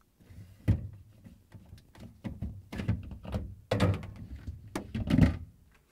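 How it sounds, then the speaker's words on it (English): Shelves being pulled out of the fresh food compartment of a Samsung refrigerator, a series of close plastic-and-glass thunks, knocks and scrapes, the loudest bumps near the end, with no talking. "We will start with removing shelves."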